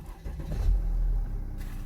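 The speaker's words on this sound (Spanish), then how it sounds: "Y lo arrancamos." Mercedes-Benz OM642 diesel engine cranking and catching, a brief starter whir followed by a low, rough idle rumble that holds steady close by, with no talking.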